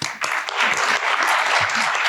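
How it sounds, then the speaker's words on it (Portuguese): An audience at a macroeconomics talk breaks into applause, a short, dense wash of many hands clapping at close range, with a few voices faintly underneath. "Pode aplaudir todo mundo, é isso?"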